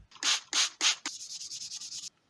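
A pewter crow casting is wet-sanded with 1000 grit sandpaper. Three long, loud strokes give way to a quicker run of shorter, even scrubbing passes, close and alone, before it stops.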